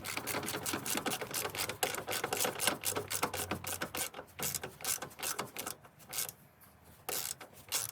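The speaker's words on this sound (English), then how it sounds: "So just gonna undo these bolts." Bolts being undone on the rubber trim of a Nissan Note during strut work, a quick series of ratcheting clicks in bursts, fairly faint and close, with no voices.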